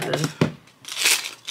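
Paper handled at a waxing salon, crinkling and rustling in short bursts with a sharp crumple near the start, close and fairly loud, while a person talks.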